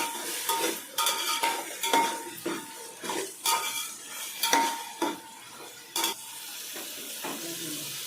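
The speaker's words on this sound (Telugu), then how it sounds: "టమాటా కూడా వేస్తే వేగిపోతుందండి." Tomatoes fry in a pan for chapala pulusu, a fish curry, as a steady sizzle runs under repeated stirring scrapes and knocks of a spoon against the pan, up close with no talking.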